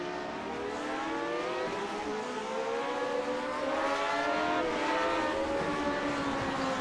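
Period racing car engines in the Grand Prix Legends sim race at VIR, approaching the Horseshoe corner, a steady loud drone with rising and falling overlapping engine tones as several cars pass close together.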